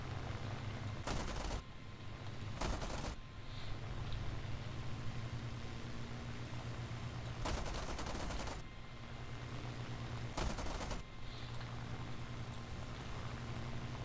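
Bursts of automatic gunfire from a vehicle-mounted weapon in a combat video game, four rapid volleys separated by pauses, loud over a constant low engine drone.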